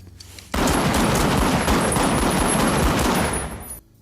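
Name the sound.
gunshots fired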